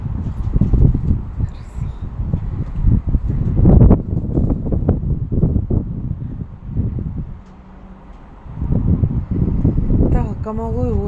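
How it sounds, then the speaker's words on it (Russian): Strong wind buffeting a microphone on a high-floor apartment balcony, heavy low gusts rising and falling in bursts, with a lull midway and a person speaking intermittently beneath it. "потому что у нас ветер очень большой."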